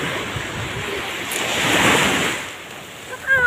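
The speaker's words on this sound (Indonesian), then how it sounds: "Iyalah agak kuat ombaknya nih." Strong ocean waves break and roll onto Pak Lotai beach in Singkawang, a steady loud surf wash with wind noise that swells in the middle and picks up again at the end.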